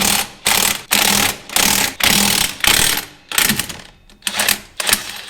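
An impact wrench runs in about ten short, loud, rattling bursts while removing wheel lug nuts on a GM 14-bolt rear axle. Brief pauses separate the bursts, and it sounds close with no speech.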